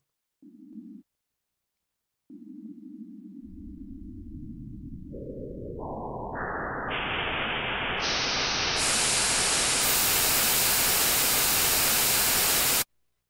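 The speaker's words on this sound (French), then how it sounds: "il s'agit d'une décomposition d'un bruit blanc" Synthesized white noise from a Sonic Audio Revival drawbar synthesizer hisses steadily, starting after a brief tone and opening up in stepwise bands until it fills out into bright full static, then stops abruptly.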